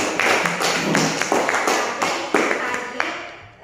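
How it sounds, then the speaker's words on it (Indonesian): A classroom of students applauds a classmate, a lively burst of many hands clapping close by in quick, overlapping rhythm that fades out toward the end, with voices mixed in. "tepuk tangan untuk temannya lagi"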